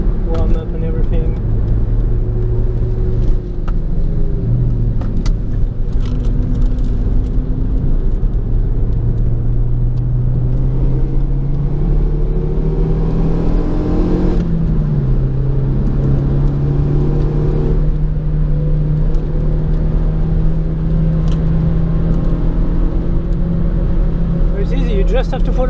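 A car drives laps on the Zandvoort circuit, its engine droning loudly and steadily throughout, pitch rising and falling with acceleration and shifts, while a person talks over the cabin noise.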